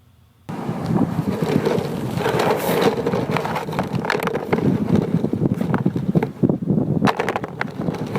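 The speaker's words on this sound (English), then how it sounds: "let's listen to golf balls." Golf balls clatter against one another outdoors in a field recording, a steady run of sharp knocks and ticks of varying loudness laid over constant heavy wind rumble buffeting the microphone.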